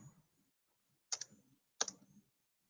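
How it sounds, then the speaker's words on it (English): Computer keyboard typing in two short bursts of sharp key clicks, close and quiet, separated by a pause of silence. "I'm typing that in the chat."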